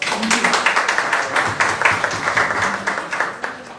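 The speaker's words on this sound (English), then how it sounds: "A round of applause." Steady applause from a crowd at a youth division open day fills the whole stretch, a dense patter of many hands clapping at once without pause.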